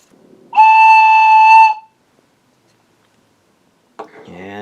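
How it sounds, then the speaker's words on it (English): A toy train whistle blown once, giving a loud steady tonal hoot of about a second with clear harmonics, followed by silence and then a voice speaking briefly. "You can blow into it and it sounds like this."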